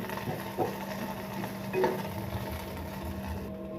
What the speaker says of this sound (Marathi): कांदा छान भाजतो